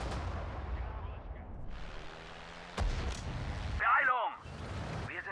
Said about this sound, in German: Feuert aus allen Rohren.